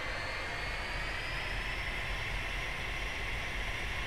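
Jet engine of an L-39 Albatros trainer spooling up in DCS World, a steady broadband roar with a rising high whine holding evenly throughout, loud and close with no talk over it.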